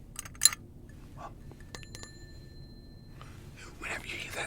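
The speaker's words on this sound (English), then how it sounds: "So whenever I ring a bell," A small bell rings during a quiet paranormal-themed ASMR roleplay, giving a few faint, clear metallic chimes with lingering tones against a soft, hushed background.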